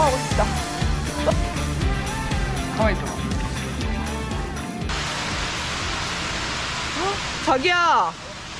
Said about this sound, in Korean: 빗소리 들려?